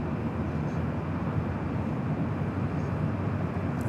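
Lufthansa Airbus A380 airliner at Los Angeles International Airport, a steady broadband jet roar that holds at an even level throughout, distant and unbroken, with no talk over it.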